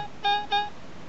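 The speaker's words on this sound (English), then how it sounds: "Really sensitive little detector." A Falcon gold detector gives two short, clear electronic beeps in quick succession as it passes over small gold pieces, with quiet between the tones.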